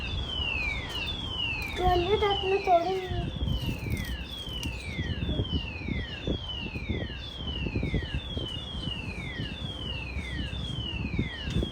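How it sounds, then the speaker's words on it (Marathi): A fire alarm sounds in a family home with a backyard, repeated descending electronic sweeps in a steady rhythm, moderately loud, with children and adults talking and some wind noise underneath. "किती वेळचा हा आवाज सुरू आहे ना सारंग फायर अलार्म"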